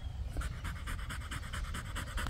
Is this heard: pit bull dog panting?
yes